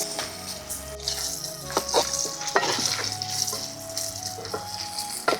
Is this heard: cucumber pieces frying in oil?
yes